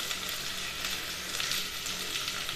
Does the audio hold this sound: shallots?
yes